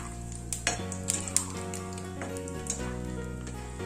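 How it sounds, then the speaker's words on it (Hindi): Cashews frying in hot oil in a pan for a sweet-and-sour chivda snack, a soft steady sizzle with scattered metallic clinks and stirring scrapes of utensils against the pan, close and fairly quiet. "अब हम इसके अंदर फ्राई कर रहे हैं हमारे काजू"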